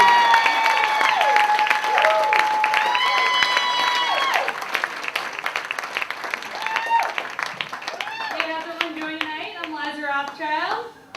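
Applause from a comedy club audience at Carolines in Times Square, steady clapping throughout with a voice talking over it and what sounds like a voice late on.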